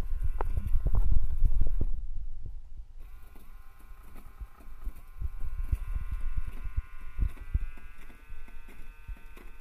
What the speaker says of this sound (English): By changing the duty cycle, as you can hear, we are decreasing the velocity of the wheels.